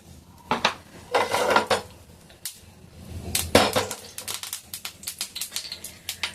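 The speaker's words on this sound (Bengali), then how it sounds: "ডিমের মধ্যে নুন দিয়েছি, নুন দিয়ে কাঁটা চামচ দিয়ে এভাবে ফাটিয়ে নিলাম" Fork clinking against a bowl while an egg with salt is beaten, a quick run of sharp metallic taps and scrapes, close and fairly loud, broken by a couple of heavier knocks.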